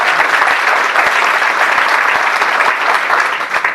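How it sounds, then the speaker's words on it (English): Loud, dense audience applause at an awards banquet and graduation ceremony, many hands clapping steadily for a few seconds before tapering slightly at the end. "Let's give them a nice round of applause."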